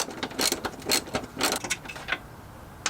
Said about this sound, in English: we're going to loosen the 2 14mm bolts that we have to take off